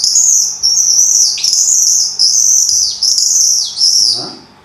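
Goldfinch call imitated with a bird call device of wood and lead, a lead piece rubbing against wood, giving a loud, continuous high twittering warble with brief dips that fades out at the end.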